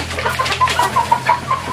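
Barred Plymouth Rock chickens feeding nearby give a string of soft, rhythmic clucks over a low steady background hum, with no one talking.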